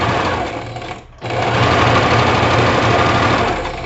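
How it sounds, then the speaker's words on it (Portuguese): A sewing machine stitches fabric steadily at a loud, close, continuous whir, pausing briefly for a moment before running on again without talk. "venho costurando e conduzindo o meu tecido"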